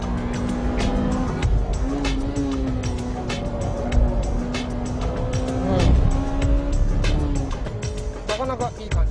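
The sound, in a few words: Honda Civic EK9 Type R engine driving uphill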